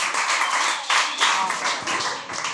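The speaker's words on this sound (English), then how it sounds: "I love the clapping. I think it's absolutely amazing." An audience claps in a dense, bright patter of many hands, fairly close and continuous with small surges, with talk faintly mixed in.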